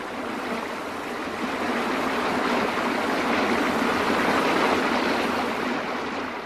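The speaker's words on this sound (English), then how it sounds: "The water pours smoothly over the fall." Water pouring smoothly over a natural waterfall on a stream: a steady, full, unbroken rush of falling water, fairly loud and even throughout, with no voices.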